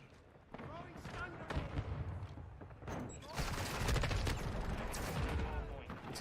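M4 rifle with no stock, slightly extended magazine and underbarrel attachment fired in Call of Duty MWII, loud bursts of gunfire building into sustained rapid shooting.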